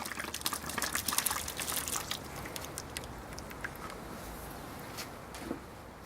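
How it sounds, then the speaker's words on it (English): Water is rinsed through a Martini Henry rifle barrel, splashing and trickling close by with a burst of gushing early on that settles into quieter dribbling and scattered drips. "again do another quick rinse"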